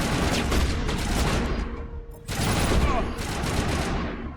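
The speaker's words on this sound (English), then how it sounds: "Why is there shootouts everywhere?" Sustained gunfire shootout in Mass Effect, dense overlapping shots and bursts filling the scene, loud and continuous with a short lull midway before the firing resumes.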